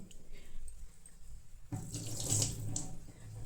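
Running tap water used for wetting hands while cleaning brass utensils: a soft background trickle swells into a louder, splashing stream partway through.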